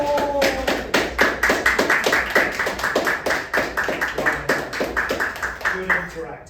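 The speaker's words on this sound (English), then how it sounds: "I want you to give yourselves all a massive round of applause" A workshop audience claps for themselves, a crisp, evenly spaced round of hand claps, loud and close, continuing for several seconds.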